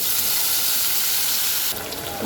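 Spice paste hits hot oil already holding fried bay leaf, cumin and dried chili for a potato curry, giving a loud, steady, close hiss that shifts and eases slightly near the end.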